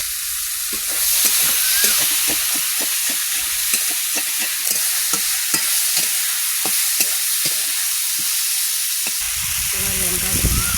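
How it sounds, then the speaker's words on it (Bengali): Puti fish sautéed with salt and turmeric in a pan gives a loud, constant hiss of frying, broken by repeated scraping strokes of stirring, with a brief voice near the end. "লবণ হলুদ দিয়ে ভালোভাবে কষাইতে নেব।"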